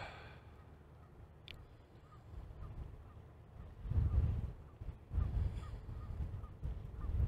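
Canada geese honk somewhere in the background by a fence near a moored ship, with louder bursts of low rumble and noise rising around the middle and later; the calls are faint and scattered under the ambient sound.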